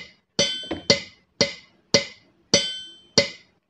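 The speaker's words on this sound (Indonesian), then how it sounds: "kita bunyikan metronom" A metronome ticks at a slow, even tempo, six sharp, clicky beats about half a second apart, heard alone and close up.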